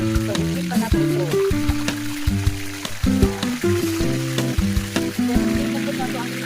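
Chicken pieces frying in hot oil give a steady, close crackling sizzle with scattered pops, while a person talks over the cooking.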